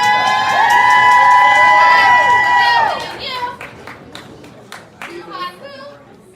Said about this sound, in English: Clap some more because they're almost here.